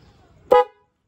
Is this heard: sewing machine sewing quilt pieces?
no